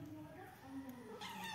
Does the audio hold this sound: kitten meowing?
yes